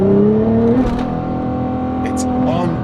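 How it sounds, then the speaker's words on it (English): Nissan GTR engine accelerating hard at full throttle, a loud, close, whining roar with steady tonal drone, briefly rising, with faint voice traces. "I listen to the motor, to how it sounds like a jet taking off whenever you launch this thing"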